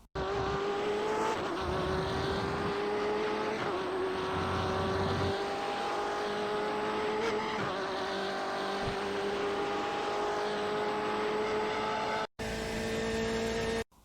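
A BMW M8 GTE race car in iRacing at Interlagos, its engine droning steadily under throttle with a rising whine through the gears, loud and close, ending with a brief cut before the note resumes.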